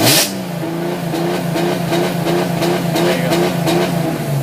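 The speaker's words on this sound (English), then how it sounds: "I'll step on the gas real quick and show you the two-step." A 2003 BMW M3 held on its two-step launch control limiter, the engine revving in a steady stuttering rhythm of sharp pops near and loud, with a brief spoken remark at the start.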